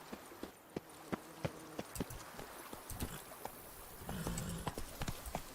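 Roach, the horse in The Witcher 3: Blood and Wine, gallops with rapid, crisp clip-clop hoofbeats over game ambience and music, steady and fairly close throughout.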